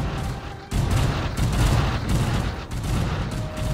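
Sustained barrage of space-fleet weapons fire in the strategy game Stellaris, a dense rumbling volley of overlapping shots and booms that kicks in after a short quieter start and stays loud to the end.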